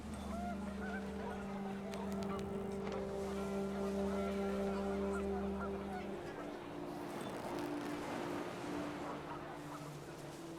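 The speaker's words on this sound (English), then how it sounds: "The wind picked up, and panicked geese appeared and quickly went." Geese honk in the video game What Remains of Edith Finch as wind picks up. A flock's repeated calls overlap, held and fairly loud over a steady low drone that shifts partway through.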